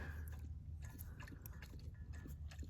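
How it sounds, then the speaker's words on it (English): Wrench clicking and grinding as it tightens a threaded fitting on an RV propane line, a steady close run of small metallic ratcheting ticks with no talk. "we'll tighten it down with a wrench"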